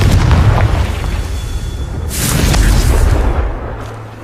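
A Confringo fire-blast spell explodes in the Hogwarts Legacy video game, a broad, deep boom that swells and then fades into a low rumbling tail over background game ambience.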